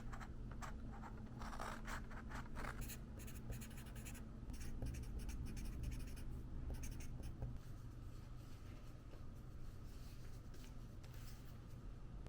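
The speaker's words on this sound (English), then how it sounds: "I'm gonna go ahead and write this note" Pen writing a handwritten note on paper, a steady close scratching and scraping across the surface, continuous under a low background hum, no talking.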